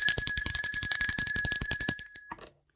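A bell rings in a rapid, continuous trill of bright metallic strikes for about two and a half seconds, then cuts off into silence. It is loud and close, with no voices.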